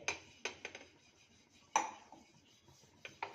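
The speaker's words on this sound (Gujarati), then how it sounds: "અહીંયા આપણે ગેસ ઉપર એક લોઢી મૂકેલી છે એની માથે આપણે આવી રીતે ઘીને ગ્રીસ કરી લઈએ" Soft metallic clinks and scrapes of a spoon on an iron tawa as ghee is spread over it on a gas stove, a few sharp taps spaced over quiet background.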